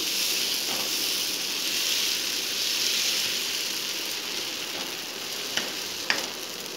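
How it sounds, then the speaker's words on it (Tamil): Dosa batter for masala dosa sizzling on a hot pan: a steady, close frying hiss that holds for several seconds, with a couple of faint clicks near the end and no talking. "நம்ம நார்மல் ரோஸ்ட் தோசை மாதிரி ஊற்றிக்கிறோம்"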